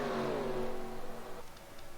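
A NASCAR stock car in the NASCAR Racing 2003 video game, the engine's roar sweeping past and fading as it pulls away, fairly quiet.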